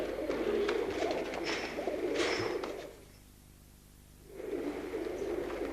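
English Tippler pigeons cooing at an indoor pigeon show, a steady murmur of many birds with layered coos, briefly dropping to near silence midway before the flock sound returns.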